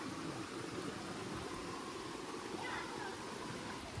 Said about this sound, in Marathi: तर इथे हा छोटासा धबधबा आहे आणि या बॅक वॉटरचा एंड आहे